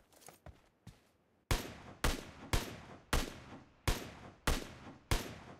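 An SKS rifle fires in PUBG Mobile. A few faint distant reports come first, then a loud, close string of about eight sharp semi-automatic shots, evenly paced roughly half a second apart, each with a short decaying tail.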